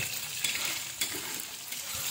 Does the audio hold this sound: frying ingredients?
yes